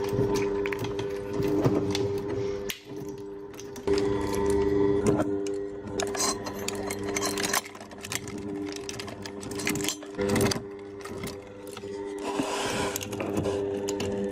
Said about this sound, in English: So I'm going to be using a pipe cutter to chop them in half and then put them through the shredder.